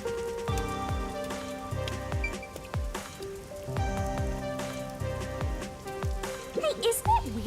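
Rain falls over a city in the video game Master Detective Archives: Rain Code, a steady patter on surfaces running beneath prominent melodic game music.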